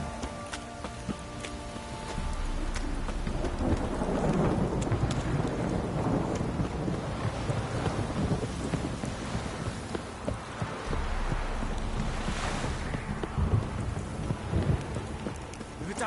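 Steady rain pours down with a wide, rushing hiss throughout a stormy scene in The Witcher 3: Wild Hunt, while low thunder rumbles roll beneath it and swell once more toward the end.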